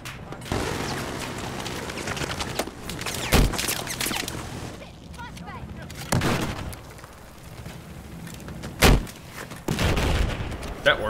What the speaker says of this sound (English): I like those big explosions